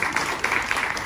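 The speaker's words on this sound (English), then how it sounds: "Let's give Dorman a round of applause." Applause from a panel-discussion audience, a dense, steady wash of many hands clapping close by for the whole short stretch.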